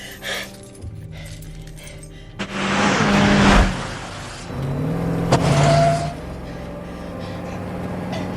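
A car engine revving and pulling away at close range, its pitch rising as it accelerates, followed by a steady engine drone.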